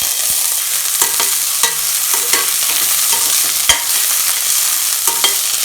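Green chili and onion frying in a pan with a steady hiss, broken by sharp scraping clicks from a spoon stirring at irregular intervals, close and fairly loud with no talking.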